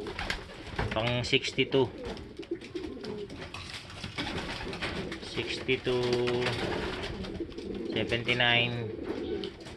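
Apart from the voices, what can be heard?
racing pigeons cooing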